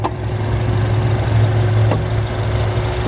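A 2010 Acura RDX SH-AWD turbocharged four-cylinder engine idles with a steady, even low hum and faint mechanical whir, unchanging throughout, with no voices.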